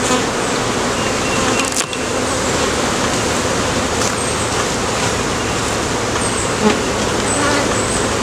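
Honeybees buzz steadily and loudly at close range while supers are lifted off a single-brood-chamber hive, a dense continuous drone with faint road traffic far behind.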